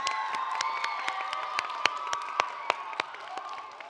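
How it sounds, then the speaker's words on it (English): An audience at a school chapel service claps and cheers for the teachers, with sharp individual claps popping over a steady wash of shouting and whooping from young voices. "Everyone give the teachers a big round of applause."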